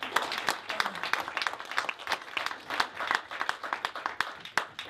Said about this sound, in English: I think you guys deserve a round of applause for that.